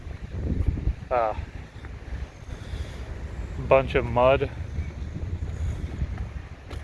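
Gusty wind at a New Zealand geothermal spring buffets the microphone with a low, rumbling roar, while a person speaks briefly over it.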